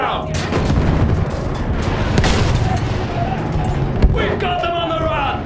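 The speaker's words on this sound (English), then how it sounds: "Use that machine gun! Mow them down!" Battlefield 1 trench battle with dense, continuous gunfire and artillery booms. Rapid bursts of machine gun fire and sharp shots overlap throughout, with a heavy thump near the end.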